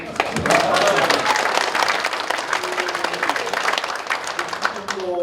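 Audience applause at a policy forum held in a National Assembly conference room, a steady wash of many hands clapping mixed with crowd murmur and some voices, fairly loud and continuous throughout.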